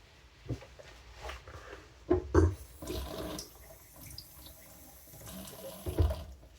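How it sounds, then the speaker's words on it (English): Plain running water rinses a honing stone used for straight razor sharpening, with faucet flow splashing in uneven bursts and a couple of louder surges, close and alone. "Just rinsing off, doing plain water now."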